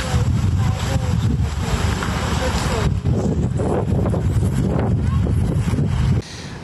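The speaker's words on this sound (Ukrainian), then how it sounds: "Шквальний вітер не припиняється від слова зовсім." Strong gusty squall wind in Ukraine buffets the microphone with a constant roaring rumble, surging and dipping, then dropping off abruptly near the end.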